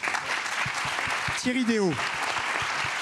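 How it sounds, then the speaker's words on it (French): An audience at a French conference plenary applauds steadily as a dense, even clatter, while a voice briefly speaks a name over it partway through. "Merci Estelle Brachlianoff, qu'on peut applaudir."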